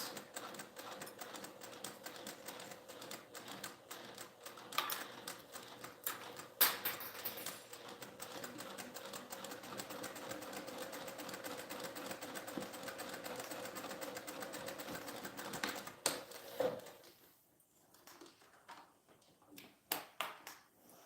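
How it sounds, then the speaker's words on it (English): Sewing machine back stitching the flap of a fabric passport organizer, a fast steady mechanical needle chatter running for long stretches, then stopping, with a few faint taps and handling sounds afterward. "I'm going to back stitch over the beginning and the end so that it has some extra security"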